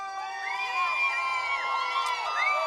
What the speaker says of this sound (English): Crowd comes to their feet.